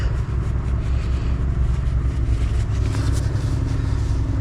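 A Barton Classic 125 motorcycle engine runs steadily at idle during an oil change, a close, continuous low thrum with no talk.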